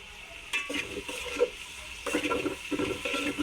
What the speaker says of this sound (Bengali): পেঁয়াজটা ভালো মতো ভেজে নিই।